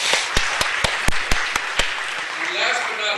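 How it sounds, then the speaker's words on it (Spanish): Applause at a city council meeting in Los Angeles: a handful of separate sharp claps ring out over a dense wash of crowd noise, thinning toward the end. "Un gran aplauso."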